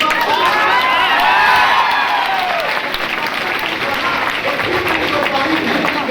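A large crowd claps loudly and steadily, with cheering and excited shouts mixed in throughout, during a Republic Day (26 January) speech in India.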